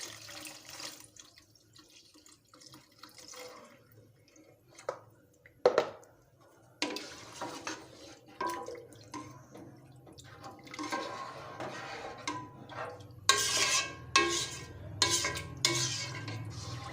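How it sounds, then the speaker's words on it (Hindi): Milk poured into a pot of soaked vermicelli (saviyan) in a home kitchen, a liquid splashing and gurgling that swells into a steadier stream with small clinks, no voices. "अब हम इसमें 1 लीटर दूध शामिल करें।"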